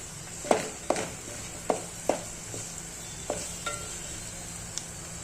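Green chillies roasting in oil in a pan on low gas, a soft steady sizzle under several sharp clinks and scrapes of a spoon stirring against the pan, close and fairly quiet.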